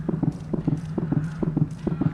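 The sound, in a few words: footsteps in the video game Dawn of Dark Blood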